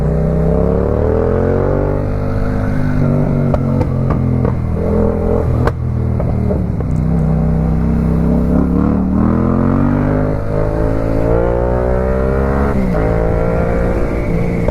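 A loud motorcycle engine revs continuously, pitch rising and falling with throttle blips, close and steady throughout with no voices.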